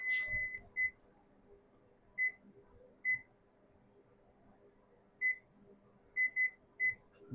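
A kitchen oven beeps as its temperature is set to 375 degrees for baking croutons: about eight short, high electronic beeps in an uneven rhythm, close and clear over a quiet room.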